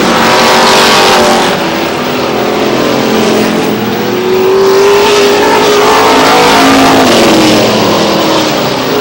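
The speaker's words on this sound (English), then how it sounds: "Bobby Cotton running in second, right on Barrett's rear bumper." Stock race cars thunder around Star Speedway in Maine, their engines roaring loudly and continuously as the pack races past, with pitch rising and falling through the turns.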